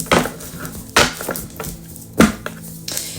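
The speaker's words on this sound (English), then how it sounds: "One more shuffle." Tarot cards are shuffled in a few distinct bursts, each a quick riffle or slap of cards, loud and close, with short pauses in between.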